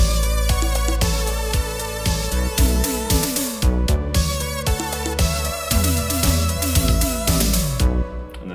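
A Roland JD-Xi synthesizer plays the second four-bar section of a theme, with bright melodic synth lines over steady beats and bass, loud and continuous with brief gaps.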